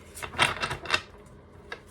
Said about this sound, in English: Let me do another shuffle and pull another one